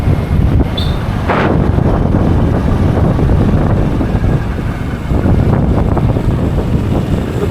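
Strong wind roars steadily across the microphone while riding outdoors on a bumpy road, a dense, buffeting rush that stays loud from start to finish with no voices.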